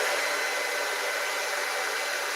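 A hair dryer runs continuously, blowing air to float a ping pong ball, a loud, even broadband whoosh that holds steady from start to finish with no speech.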